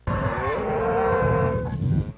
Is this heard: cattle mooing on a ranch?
yes